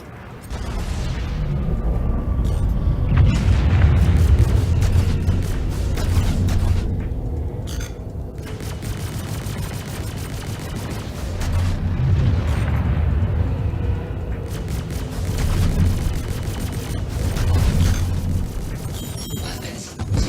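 Repeated missile explosions in a video game as a target is destroyed, with heavy booming blasts and rumbling rolling through the whole stretch, swelling and fading in waves.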